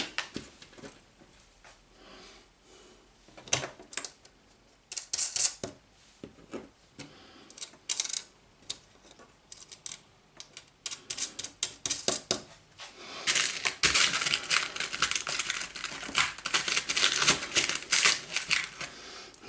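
Loose metal bolts from a packet being rummaged and sorted by hand, producing scattered clinks and rattles that come in bursts, growing into dense, continuous jangling toward the end, close up with no speech.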